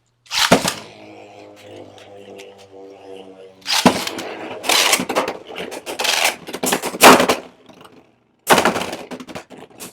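Beyblade X tops, including a Hasbro Phoenix Wing and Keel Shark, smashing together in a plastic stadium battle, heard as loud sharp cracks and scraping bursts with a steady whirring spin between hits, close and alone.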